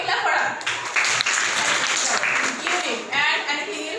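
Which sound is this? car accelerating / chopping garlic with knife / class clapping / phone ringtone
class clapping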